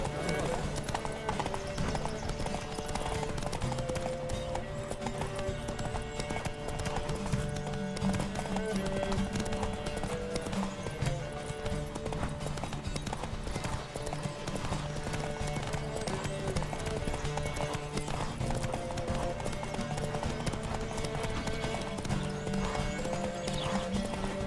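Horses galloping in a race in The Witcher 3, their clip-clop hoofbeats pounding steadily and close throughout, with occasional neighs and a dense bed of game music and voices.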